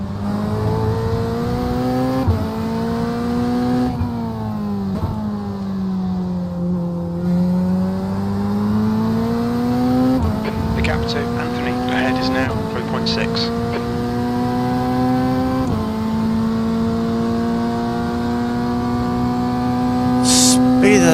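GT3 race car engines at Fuji in iRacing: a steady, loud engine drone whose pitch rises and dips through gear changes, with other cars passing and a commentator talking over it.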